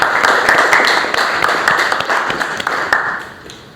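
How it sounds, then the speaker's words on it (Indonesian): Participants in a teaching workshop applaud with steady, close hand clapping that gradually thins out and fades over a few seconds. "Ya, tepuk tangan."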